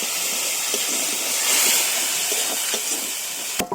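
Water splashed into sizzling chili and turmeric spice paste, a loud hissing steam burst that swells midway and then settles, with a couple of sharp clinks at the end.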